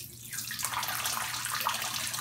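Water rushes through a switched-on solenoid valve, a steady broadband hiss of flow with a low hum underneath, near and constant, no speech.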